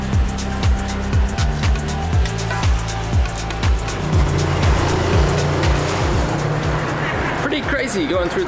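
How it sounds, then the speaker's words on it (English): Cars and motorbikes squeezed together in a very tight tunnel in Hue, Vietnam, with loud, continuous engine roar and repeated revving bursts echoing off the walls as the vehicles pass close by. "Cars and bikes all going in next to each other."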